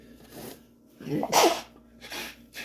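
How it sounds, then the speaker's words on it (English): One loud sneeze close by, with a quick inhale leading into it and a soft breath afterward. "I'm gonna sneeze."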